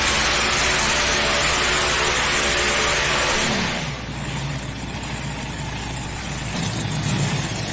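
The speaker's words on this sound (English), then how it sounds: "4 transverse mounted engines. He's got that 5th one mounted right up on top." A tractor puller with four transverse-mounted engines plus a fifth mounted on top, around 14,000 horsepower, roars loudly at a truck and tractor pulling event in Bowling Green, Ohio, a sustained thunderous drone that eases slightly midway and then holds steady.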